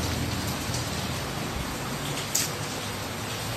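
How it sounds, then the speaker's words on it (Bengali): Heavy rain pouring down outdoors, a dense, steady hiss of drops hitting surfaces, constant and fairly close with no voices. "বাইরে অঝোরে বৃষ্টি পড়ছে"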